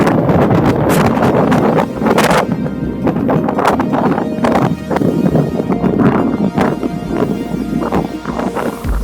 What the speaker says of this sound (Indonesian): Angin pun bertiup sangat intens, saya pun harus memakai jaket.